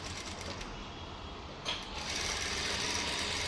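Sewing machine stitching along the edge of fabric piping, a steady loud mechanical whir that runs continuously and close throughout with no talking.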